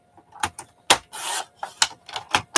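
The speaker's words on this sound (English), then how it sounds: "So we got to trim this side too." Magazine pages being trimmed, a series of short papery rasping cuts and rustles in quick irregular bursts, close and fairly quiet.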